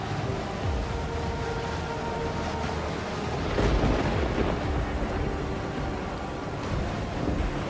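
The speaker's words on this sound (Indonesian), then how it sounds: "Ini kan hujan badai." A thunderstorm with steady heavy rain and rumbling thunder, the rain a dense continuous wash and the thunder swelling into a louder roll midway before easing back.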